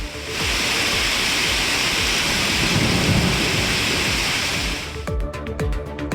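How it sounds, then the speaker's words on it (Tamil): Hailstorm at Valparai with strong gusting winds, thunder and heavy rain: a loud, continuous roar of pounding rain and wind that eases near the end, where sharp, rapid impacts of hail or drops clatter close by. "வால்பாறை பகுதியில் சூறைக்காற்றுடன் ஆலங்கட்டி மழை பெய்ததால்"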